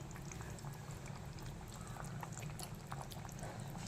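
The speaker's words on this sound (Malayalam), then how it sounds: "നല്ലതായിട്ട് തിളച്ചുകൊണ്ടിരിക്കുകയാണ്." Tuna fish curry with green pepper and bird's-eye chillies boils in a pot, a steady, fairly loud bubbling and simmering that continues without a break and with no talking.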